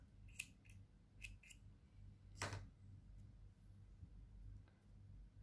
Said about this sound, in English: I'll just cut the old color